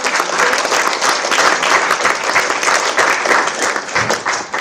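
A conference audience gives a big round of applause to the speakers at a valedictory session, steady loud clapping from a full room with no pause.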